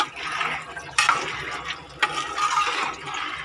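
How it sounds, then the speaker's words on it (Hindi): Water splashes and gushes as it is poured into a cooking pot holding washed rice for pulao, a bright hissing stream that comes close and loud in uneven bursts. "अब मैं इसमें पानी शामिल कर रही हूँ"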